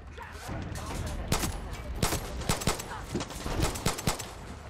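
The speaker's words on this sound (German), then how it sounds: "die schießen da mit keine Ahnung was" Gunfire rings out in the video game Far Cry 6 as a scattered volley of distant shots in uneven clusters, popping over a dense, noisy battlefield ambience.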